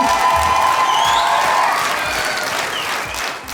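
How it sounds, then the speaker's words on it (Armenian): A talent show audience breaks into loud, sustained applause, with scattered cheers and whoops over the clapping, which fades slightly toward the end. "եկեք բարձր ծափարենք"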